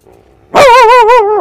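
A man imitates a dog barking with his voice, a single loud, drawn-out yelping bark rising into a wavering, howl-like tone after a brief quiet lead-in.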